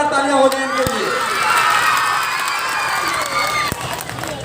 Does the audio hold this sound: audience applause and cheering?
yes